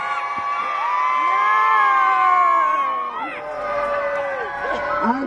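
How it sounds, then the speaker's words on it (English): A crowd at a medieval battle show at a castle cheers and whoops loudly, a sustained wash of voices that dips briefly and swells again near the end. "There's a lot of cheering going on, good work"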